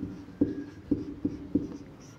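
Chalk or marker strikes a classroom board while solving a Class 10 maths equation, four sharp taps spaced about half a second apart over faint room hum, no talking.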